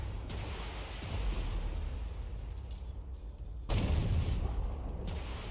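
A tank cannon firing in the video game Armored Warfare, with a broad low rumble throughout and a loud, sudden boom near the end, followed by a sustained roar.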